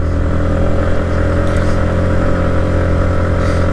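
A motorcycle engine labours hard while climbing a steep hill on a rough mountain road, loud and close. The drone is steady and heavy throughout and never lets up.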